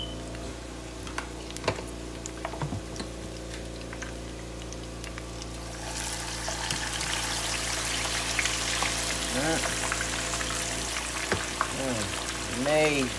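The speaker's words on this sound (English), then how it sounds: "So now that our oil is hot, we're going to go in with our fish" Red snapper hitting hot oil sets off a loud, dense frying sizzle that builds and stays steady, with a few clinks and a voice speaking over it.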